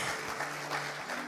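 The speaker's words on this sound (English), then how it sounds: "I think everyone here should give her a round of applause." A brief burst of clapping from a group, a short round of applause heard at moderate distance.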